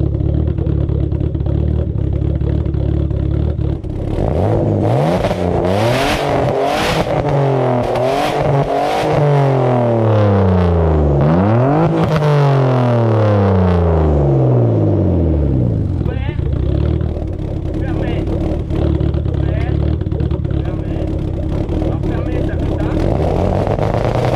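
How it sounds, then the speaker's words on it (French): A BMW E36 325i bi-turbo with a noise-suppressing valve in the exhaust revs hard and close, its engine pitch repeatedly sweeping up and dropping back before settling into a loud, steady idle. "sur cette auto j'ai un truc là dans l'échappement, c'est un clapet pour supprimer le bruit"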